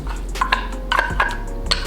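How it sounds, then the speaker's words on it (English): Canned tuna scraped and tapped into a bowl with a utensil, a few quick clinks and scrapes against the dish, close and distinct with no talking. "let's get these tunas into the bowl"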